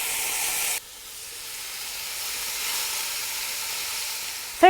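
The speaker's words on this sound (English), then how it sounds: "saute about 8 minutes the minced meat until it changes the color" Minced meat sautéing in extra virgin olive oil for a Greek moussaka meat sauce. A brief louder burst gives way to a soft, steady sizzle and hiss close to the pan, with no talk.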